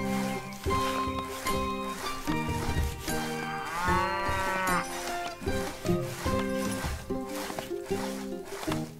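Cattle mooing in the medieval strategy game Stronghold Definitive Edition, a drawn-out harmonic low call rising through the middle of the clip over a busy bed of game music and ambience.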